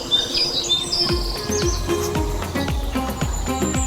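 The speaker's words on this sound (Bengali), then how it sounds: "পাখি ডাক শোনা যাচ্ছে" Several birds chirp and tweet outdoors under a fine, cloudy sky, with repeated short calls near and clear over soft low background noise.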